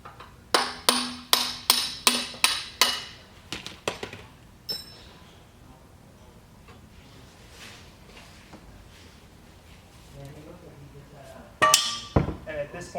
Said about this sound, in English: Now the handle axle can be driven out.